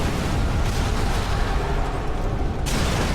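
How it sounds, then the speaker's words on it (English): A sustained, dense rumble of video game vehicle explosions and crackling debris in Sniper Elite 3, loud and continuous throughout, with no speech. "cause these brilliant kind of explosions in the vehicles"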